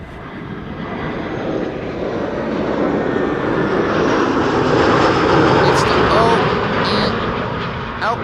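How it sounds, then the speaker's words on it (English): An EasyJet Airbus A319 lands at Amsterdam Schiphol. The jet engine roar swells steadily louder over several seconds, then eases slightly, with faint talk underneath. "First up, EasyJet A319 arriving from Prague in the Czech Republic"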